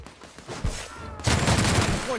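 A sudden, loud volley of rapid gunfire in The Outer Worlds takes over after a quieter stretch of game noise and speech, then rattles on steadily to the end.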